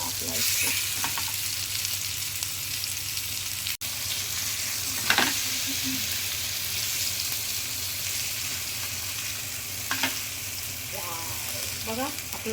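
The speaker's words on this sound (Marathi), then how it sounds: "कसा मस्तपैकी फ्राय झालेला आहे पापलेट" Stuffed pomfret fish frying in hot oil on low gas, a continuous close sizzle with occasional spatters and brief stirring or utensil sounds, no talk.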